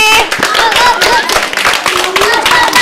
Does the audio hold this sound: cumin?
no